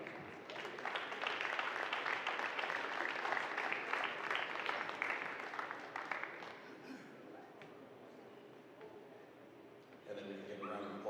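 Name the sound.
applause for a senior basketball player at senior night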